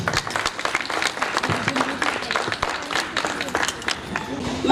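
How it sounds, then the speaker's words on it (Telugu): Audience clapping at a school teacher-student reunion gathering, dense applause from a crowd of many hands, loud and continuous with uneven bursts throughout. "క్లాప్స్"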